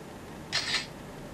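A DOOGEE X5 MAX phone camera fires its shutter, triggered by the fingerprint sensor, giving one short, bright double-click near at hand over faint background hiss.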